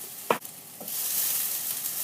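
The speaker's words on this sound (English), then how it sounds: "Just keep stirring that so it's not burning." Lamb mince browning in a frying pan sizzles with a steady hiss, broken by two brief scraping stirs early on.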